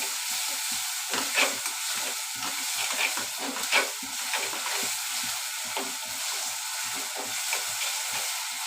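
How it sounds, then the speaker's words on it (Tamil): Continuous frying sizzle of ginger garlic paste with a steady hiss, broken by repeated scraping stirs of a spatula against the pan, close and fairly even throughout. "கொஞ்சமாக இஞ்சி பூண்டு பேஸ்ட்டு சேர்த்து இதையும் நம்ம நல்லா வதக்கி விட்டுணும்"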